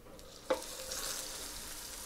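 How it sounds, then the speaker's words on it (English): A sous vide steak sears in a hot pan, a sharp hiss at contact followed by a steady, fairly quiet sizzle. "We're gonna give this the same 20, 30 second sear, and then we're just gonna take it off"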